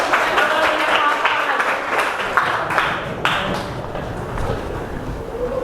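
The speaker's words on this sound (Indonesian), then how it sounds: "Oke, tepuk tangan dong." A class applauds at the end of a cooking lesson, giving a few seconds of fairly close, uneven clapping from many hands that thins out as it goes on.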